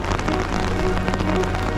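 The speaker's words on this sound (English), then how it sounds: "Had to finally get an umbrella because it's raining pretty hard." Heavy rain falling hard in Munich, a dense, loud, continuous hiss of drops pattering on surfaces close by, with no pauses.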